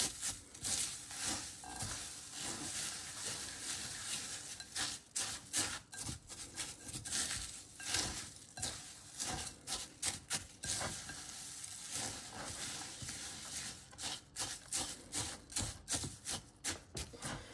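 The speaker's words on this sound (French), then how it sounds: "Et je remue le tout pour que le chocolat enrobe toutes les gavottes." Melted chocolate is stirred to coat crisp Gavotte crepe biscuits, with close, continuous scraping and crackling rubs in an uneven rhythm and no talk.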